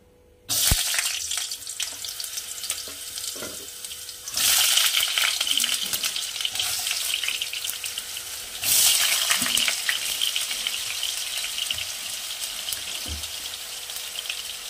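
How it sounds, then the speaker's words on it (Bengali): Cut potatoes fry in mustard oil, a steady loud sizzle and crackle running throughout, with brief clinks of utensils and surges in intensity near the start, middle and later on. "প্রথমে ভেজে নেব কেটে রাখা আলু।"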